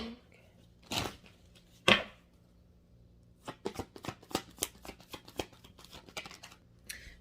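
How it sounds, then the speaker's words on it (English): A tarot deck is handled close up: two sharp slaps of cards come first, then a quick run of crisp riffling shuffle clicks, fairly soft with no talk. "I'm going to pull one more from this deck."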